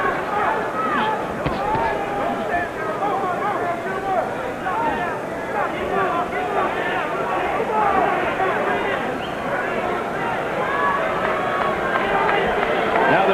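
A boxing crowd at a WBC light middleweight title fight jeers and murmurs in a dense, continuous roar that stays loud throughout, with a commentator speaking over it.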